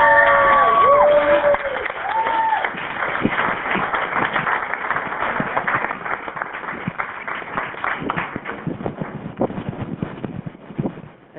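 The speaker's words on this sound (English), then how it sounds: "Let's give a big round of applause to our next storyteller." Audience at a storytelling event bursting into applause and cheering, dense clapping and whoops sustained for about eleven seconds, loud and close, fading slightly toward the end.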